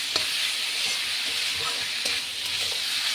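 Small pieces of boiled chicken fry in a pan with a little water, giving a steady, close sizzling hiss with faint stirring ticks.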